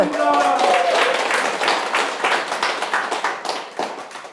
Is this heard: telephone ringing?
no